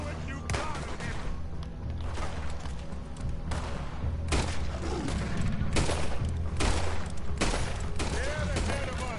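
Gunfire in the video game Red Dead Redemption 2: a rapid fusillade of close, loud shots in irregular bursts over a dense background of game sound, with voices speaking in between.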